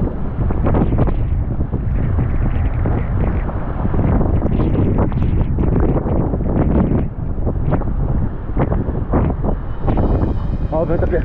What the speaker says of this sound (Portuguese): Olha o vento apertando.